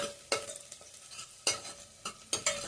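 Oil sizzles and crackles steadily as onions fry in a pressure cooker, with several louder stirring scrapes breaking through at irregular intervals.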